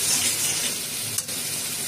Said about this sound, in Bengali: এবার ভালো করে বেশ একটু কষিয়ে নেব।